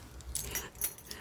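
Keys jangling as someone tries the wrong key in a lock, a brief burst of close metallic clinks and rattles, quiet and uneven.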